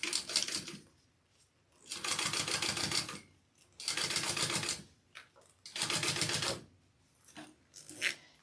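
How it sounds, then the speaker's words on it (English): Sewing machine top stitching along the top edge of a zipper on a bag, four loud close bursts of rapid stitching separated by short pauses, with a faint brief fifth burst at the end. "we're gonna top stitch through the top, along the top edge of the zipper."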